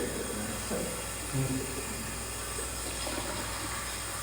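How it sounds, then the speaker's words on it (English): Hot water streams steadily while a hummingbird feeder is rinsed, a constant splashing hiss with brief gurgles from the plastic. "Then I give it a good rinse with hot water, making sure that I rinse off all soap residue"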